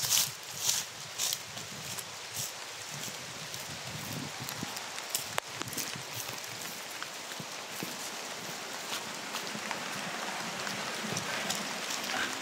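Steady rain patters and hisses outdoors, continuous and fairly soft, with occasional louder drips and rustles.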